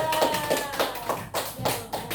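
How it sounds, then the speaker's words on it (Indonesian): A primary school class claps together in a steady, fairly loud burst of applause that continues throughout. "berikan tepuk tangan kepada kelompok 2"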